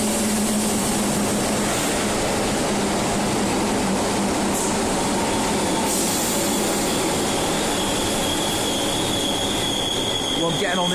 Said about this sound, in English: Well, I'm getting on this train, just one stop,